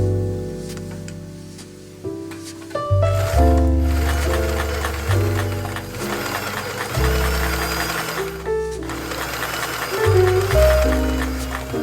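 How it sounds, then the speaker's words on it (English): A sewing machine runs gathering stitches along the lower edge of a silk slip bodice sewn from a vintage 1930s pattern, humming loudly in sustained runs with brief pauses and changes in pitch. "just to run gathering stitches on the lower part of the bodice piece"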